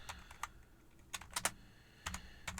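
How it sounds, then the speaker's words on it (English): Keys are struck on a computer keyboard with quiet, close clicks in short irregular bursts, a few taps at a time with gaps between them. "So we're going to type in just Crane's"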